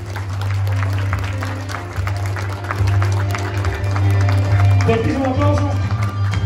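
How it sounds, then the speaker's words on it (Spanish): Wedding guests clap for the bride's parents, a steady burst of applause under loud amplified music with a strong low bass drone, continuous for several seconds. "¡Fuerte el aplauso para los papacitos!"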